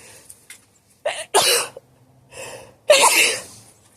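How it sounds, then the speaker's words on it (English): A sneeze goes off outdoors in a vegetable garden among pea plants: a sharp intake, a loud burst, then a second strong sneeze near the end, close and alone with no talking. "I just sneezed"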